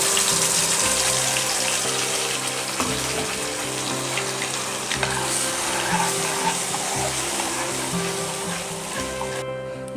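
Rinse water from a mixer grinder jar poured into a pan of simmering egg gravy (muttai kulambu), a loud, continuous gushing splash over sizzling, close up for about ten seconds with no speech.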